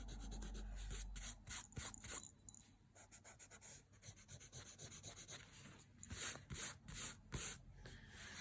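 Pencil lines being rubbed out with an eraser along the edges of a shell drawing on paper, giving quiet, repeated scrubbing strokes in short bursts with brief pauses between them.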